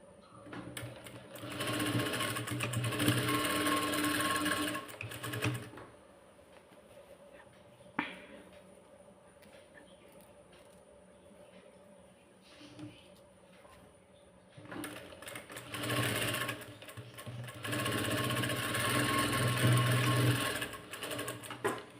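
A sewing machine stitching a blouse at the shoulder fold runs in two long bursts of rapid, even whirring, with a quiet pause between them, close and loud.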